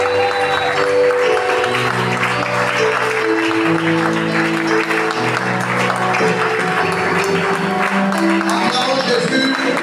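A church congregation applauds and cheers to welcome a brother to the front, steady loud clapping running throughout over sustained music tones and voices.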